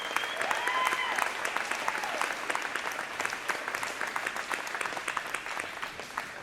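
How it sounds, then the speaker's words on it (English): Audience applause for marching band volunteers at a high school fall concert, a sustained wash of many hands clapping that slowly thins, with faint voices mixed in. "Can we give these individuals a round of applause?"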